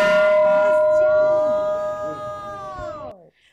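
A single bell rings with a sustained metallic hum that slowly fades and then cuts off, used as an effect in a narrated story. A voice murmurs faintly beneath it.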